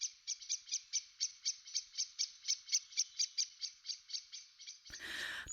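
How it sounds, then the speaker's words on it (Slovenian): A common blackbird sings a fast run of about twenty bright, evenly spaced whistled notes, clear and alone against silence, ending in a brief burst of broadband noise. "Predstavljaj si, da slišiš petje kosa ali kosovke."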